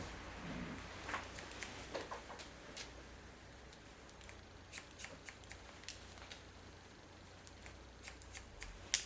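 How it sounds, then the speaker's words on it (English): Scissors snip through wet hair in a scissor-over-comb haircut for a short style, quiet intermittent clicks and snips scattered across a low background hiss, with no talking. "And now I just cut the baseline, because in the scissor over comb technique I will connect it afterwards."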